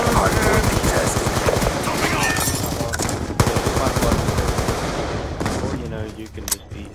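Rapid gunfire in a first-person shooter game during a hardpoint match, dense bursts of shots that run nearly continuously with one sharper loud crack midway, tapering near the end; game sounds and voices mix underneath.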